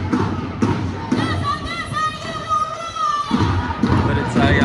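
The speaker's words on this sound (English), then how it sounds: "Yeah, it's certainly a lot smaller crowd" Small protest crowd gathered against a visiting Israeli president, a steady murmur of many voices with scattered shouts and thumps, and a sustained raised voice carrying over the middle of the recording.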